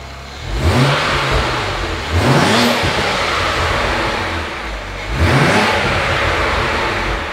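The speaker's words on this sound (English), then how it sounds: "But just give it a bit more of a rev." A BMW E92 335i with a swapped N54 engine is revved three times in a garage, each blip rising sharply in pitch and then falling back to idle, loud and close with no voices.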